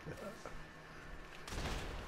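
Musket volley fire in a German-language castle-on-the-beach video game, a burst of gunfire loud and close in the final second after a stretch of low battle noise, with voices speaking in the background.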